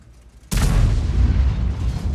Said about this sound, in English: I put another blind shot where he was